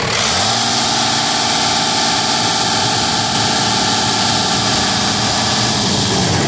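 A 1989 Dodge D250 diesel engine runs at a steady idle, a loud close clatter with a deep rumble underneath that holds unchanged throughout.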